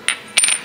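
A small metal key drops into the keyway of a pulley on a modified winch setup, giving two quick close metallic clinks, the second with a brief rattle.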